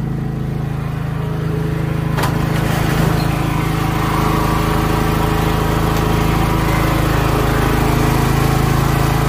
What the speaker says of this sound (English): There's the generator just working away.